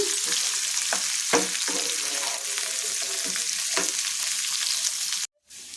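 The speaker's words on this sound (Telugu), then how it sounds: "ఉల్లిపాయలు అయితే ఇంకా వేగుతున్నాయండి" Onions and green chillies fry in a pan for stuffed ridge gourd, a steady broadband sizzle with a few sharper spatula scrapes and crackles, close and continuous before cutting out near the end.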